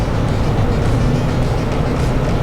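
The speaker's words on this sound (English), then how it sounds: "And this is the road we're driving right now." A car drives along a desert road, giving a loud, steady interior rumble of engine and tire roar that stays constant with no talk.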